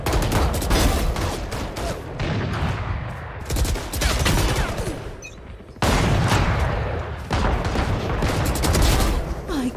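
Rapid gunfire in Valorant, with dense repeated bursts of shots filling the whole stretch, loud and close, separated by short pauses.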